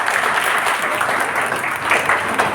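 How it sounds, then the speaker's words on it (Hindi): Seminar audience clapping in an indoor hall, a dense, continuous burst of applause from many hands, loud and close, with a little voice beneath it. "ताली बजा दीजिए"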